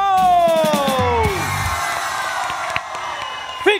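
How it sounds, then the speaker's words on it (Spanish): Studio audience on a Bolivian TV game-show comedy night cheering, whooping and shouting loudly and continuously, with a brief burst of yells near the end. "Aplausos para estos muchachos"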